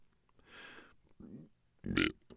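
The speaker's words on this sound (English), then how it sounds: "Then she belched." A woman lets out a loud, throaty belch close by, short and abrupt, preceded by faint voiced sounds.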